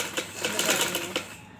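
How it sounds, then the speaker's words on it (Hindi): A sewing machine runs a second line of stitching over folded fabric for a child's round neckline, a brief, fast, close run of rhythmic mechanical ticking. "तो दूसरी सिलाई हमने इसके ऊपर लगानी है।"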